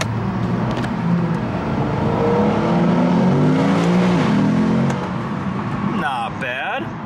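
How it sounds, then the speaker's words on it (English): A Lexus IS500 F-Sport's 5-liter V8 revs up loudly from a green light, a steady near engine roar swelling mid-clip before easing off, with brief tire or squeal-like tonal sweeps near the end. "5-liter V8,"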